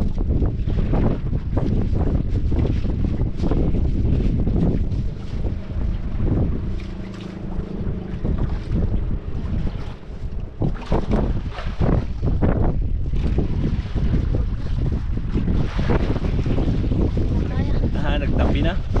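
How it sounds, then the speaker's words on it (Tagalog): A motorboat engine droning nearby on open water as the boat approaches, heavily buffeted by wind gusts and sea noise throughout. "May bangka na naman palapit mi."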